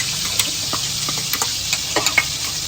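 Garlic paste fries in a hot pan with a steady sizzle, broken by several sharp scraping clicks as a spoon stirs it close by.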